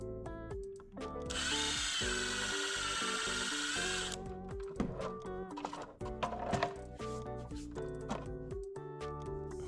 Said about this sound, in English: so I'm drilling my own holes now.